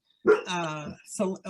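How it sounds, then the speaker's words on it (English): A pet dog gives a brief drawn-out bark or yelp, close and loud, followed by a shorter second sound, while someone speaks over it. "excuse my dog, she wants to bark now."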